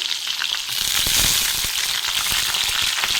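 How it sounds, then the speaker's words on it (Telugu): Green chillies crackle and sizzle steadily in hot oil, a dense, continuous frying hiss with small pops throughout. "స్టవ్ పైన గిన్నె పెట్టి ఆయిల్ వేసుకొని మిర్చిలు అయితే వేసుకున్నాము"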